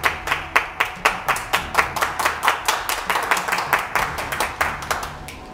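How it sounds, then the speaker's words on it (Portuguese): An audience claps for Randolfo Rodrigues from Amapá, producing a clear run of sharp, regularly spaced claps in a steady rhythm, loud and close, with no talk over them. "Uma salva de palmas para ele!"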